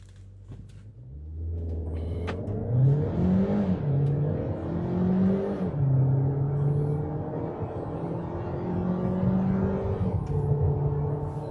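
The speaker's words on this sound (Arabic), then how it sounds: "هنجرب تسارع الشيري اريزو 8 من 0 ل100" A Chery Arrizo 8 engine revs up hard accelerating from 0 to 100, climbing through several gears, pitch rising and dropping at each shift, loud and close, with no talking.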